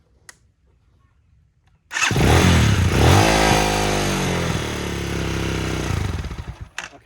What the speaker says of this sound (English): the bike runs nice